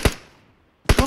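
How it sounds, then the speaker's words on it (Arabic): Close gunshots in PUBG Mobile: a sharp crack, a brief fading tail, then a quick loud burst of several rapid shots. "من يسار ضربوا طلقات"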